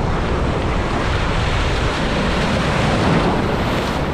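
Choppy ocean surf rolls in at Playa Tecolote beach, a dense, steady wash of breaking water mixed with gusty wind noise on the microphone, loud and continuous with no talking.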